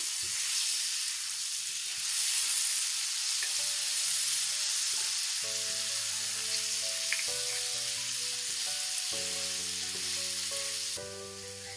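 Okra stir-frying with garlic and ginger paste makes a continuous loud sizzle in the pan. A steady tonal background melody runs over it from about the middle onward, and nobody talks.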